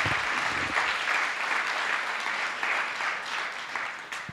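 Audience applause at an entrepreneurship competition: a dense, steady wash of many hands clapping, fairly loud and even throughout, with no talking over it.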